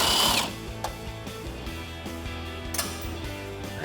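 A power tool with a 10mm socket on an extension spins grille bolts off a 2014-2018 Chevrolet Silverado 1500, a short close whir followed by ratcheting, clicking bursts.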